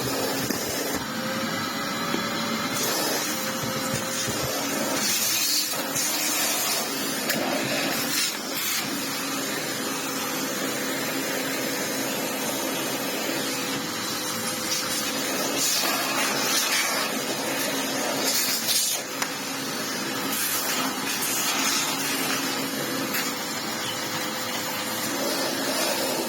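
An upright vacuum cleaner drones steadily throughout, a loud whirring hum with slight shifts in pitch as it moves.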